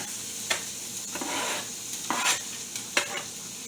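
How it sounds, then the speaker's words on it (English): Onions sizzling in coconut or canola oil in a non-stick skillet, a steady close frying hiss punctuated by several scraping spatula strokes as they are stirred; no talking. "Coat your pan really good. And throw your onions in there."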